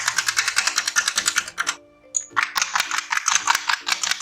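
Eggs whisked with salt in a bowl, a fast, steady run of light clicking strokes that pauses briefly midway and then resumes at the same brisk rhythm, close and fairly loud with no talking.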